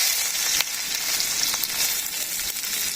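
Chopped onion frying in mustard oil, a steady close sizzle that runs unbroken throughout with a few faint stirring clicks and no talk.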